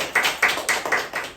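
A small group gathered for a reading of The Pilgrim's Progress claps together, about five slow, even, close claps in a steady rhythm with no talking.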